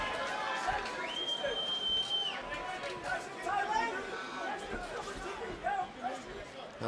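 Arena crowd at a cage fighting event in Glasgow murmuring and cheering as the bout heats up, a steady roar of voices with a commentator talking over it and a brief whistle-like tone.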